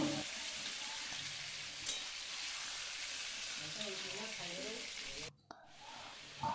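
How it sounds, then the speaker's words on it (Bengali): Steady sizzling and crackling of chicken pieces frying in hot oil until golden, continuous and close, with a brief dip near the end. "সুন্দর সোনালি রং ধরা পর্যন্ত চিকেনগুলোকে ভেজে নেব।"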